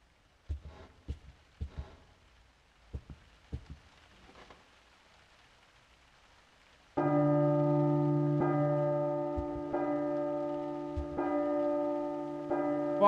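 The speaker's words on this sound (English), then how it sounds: "there was something I had to do while the bell was ringing" A church bell tolls in the horror game P.T., with sharp, resonant strikes repeating in a steady rhythm and a long ringing sustain, loud and close, after a stretch of quieter scattered knocks.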